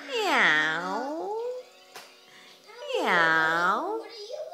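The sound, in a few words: child imitating a cat's meow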